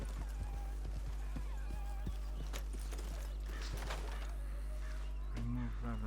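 Horse hooves in the video game Red Dead Redemption 2, a string of sharp clip-clop strikes over a low steady hum, with a horse whinny and a faint voice near the end.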